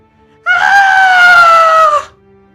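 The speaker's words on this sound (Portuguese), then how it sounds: "Houve gritos descontrolados." A single long scream of uncontrolled terror, loud and close, rising sharply and holding a strained, tonal wail for about a second and a half before cutting off, with no other sounds around it.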